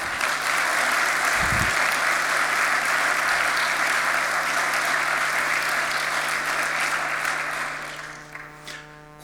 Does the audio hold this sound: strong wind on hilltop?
no